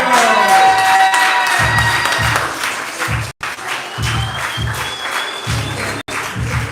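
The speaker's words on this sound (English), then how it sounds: "Keep that applause going" An audience claps and cheers loudly with a few whistles, while rhythmic beats of music pulse underneath.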